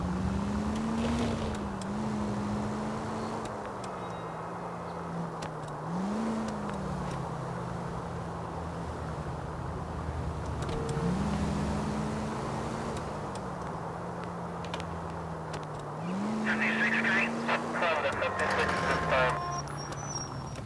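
A car in the LA Noire video game drones along with a steady engine hum that rises and falls as gears shift, with faint road noise and a brief clatter near the end, while someone talks over it.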